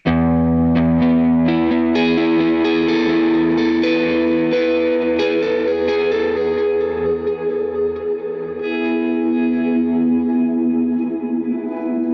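Electric guitar played through a Line 6 HX Stomp with reverb and no swell switch: loud, continuous sustained chords washed in reverb and shimmering effects, ringing on for the whole stretch with no talk.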